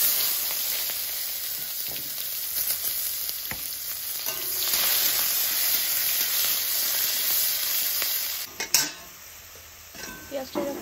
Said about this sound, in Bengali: পেঁয়াজটা যখন ভাজা হয়ে আসবে, লাল হয়ে আসবে